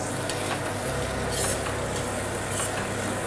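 Onion mixture for wheat onion samosa filling sautéing in a pan, a continuous close sizzle with light scraping of stirring and a couple of brighter hissing bursts, no talking.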